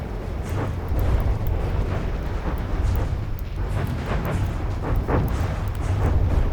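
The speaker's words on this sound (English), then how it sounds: "And that took out the entire torpedo volley. Well done with the flak." Flak guns shooting down a torpedo volley during a space boss battle in a video game, a dense continuous roar of rumbling blasts and rapid booms, loud and unbroken throughout.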